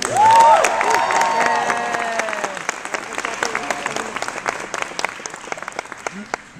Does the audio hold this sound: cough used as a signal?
no